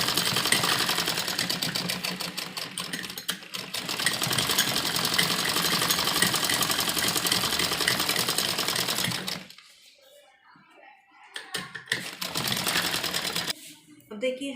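Sewing machine stitching a V-shape umbrella frock, running in long rapid mechanical bursts of needle chatter, pausing briefly and then restarting for short runs, with a voice speaking over it.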